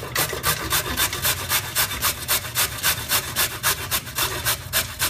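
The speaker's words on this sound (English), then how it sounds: "I've just peeled the carrots here, and we're gonna grate all these." Peeled carrots grated by hand on a grater, a close rhythmic rasping scrape repeating roughly four times a second in even strokes, loud and alone.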